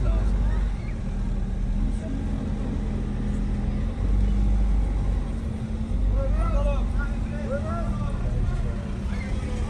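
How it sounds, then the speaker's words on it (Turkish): A car drives slowly in light drizzle at Ayder, a mountain village in Rize, its low steady engine and road rumble running under near, continuous talk from passengers. "Arabayı park edeceğiz."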